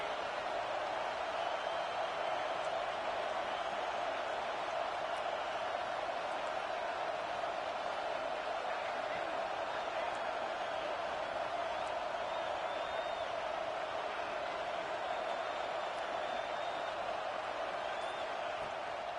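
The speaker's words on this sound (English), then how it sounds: "The Buckeye crowd alive on 3rd down." Ohio State Buckeye football stadium crowd during a Tennessee game on third down, a sustained, distant roar of cheering spread evenly throughout, with a broadcast commentator's voice faintly underneath.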